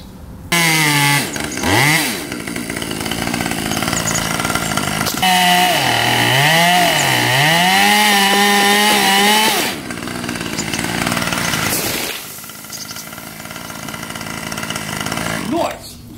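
A chainsaw cuts through the top of a tree, its engine loud and close, revving up and down as the bar bites into the wood, with a brief lull before the motor surges again.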